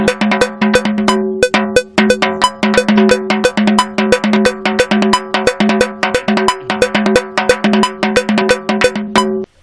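A bright, metallic Odia tapori percussion loop of cowbell-like strikes repeats in a quick, steady rhythm, loud and dry with no voices.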